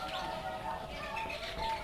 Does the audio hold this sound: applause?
no